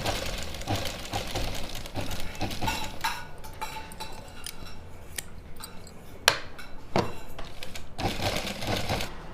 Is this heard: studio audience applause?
no